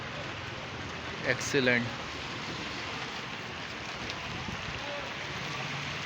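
Steady winter rain in Karachi hisses throughout, a broad even wash of sound, with a brief spoken word near the start.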